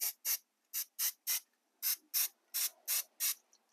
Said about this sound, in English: I'm going to use some 3M Super 77 spray adhesive